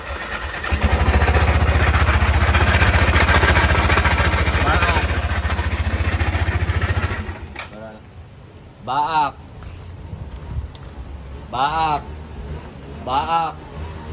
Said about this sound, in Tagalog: Sobrang ingay ng makina. Start niya, Ben. Ayan ang starter niya